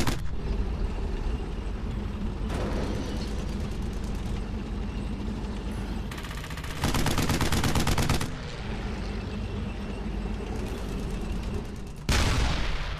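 Gunfire in the video game Brothers in Arms: Hell's Highway: loud, rapid automatic bursts come in blocks over a constant rumbling game background, with a final burst near the end.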